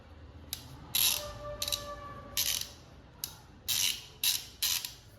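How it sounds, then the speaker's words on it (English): A Bosch half-inch socket ratchet clicks in short, crisp bursts of rapid pawl clicks, about seven separate spurts spread irregularly, close up with a faint background hum. "this is the half-inch ratchet, I mean half-inch socket ratchet"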